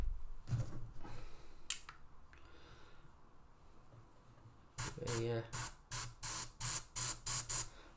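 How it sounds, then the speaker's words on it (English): An airbrush sprays a light test coat of freshly mixed model paint for a WMIK base build in a string of short, sharp hissing bursts, preceded by quieter handling noises and faint talk. "I'm just going to shoot some in the airbrush."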